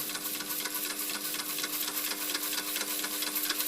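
A steady, fast mechanical chuffing from a small model upright steam engine, busy and continuous, with a faint whistling hum running underneath.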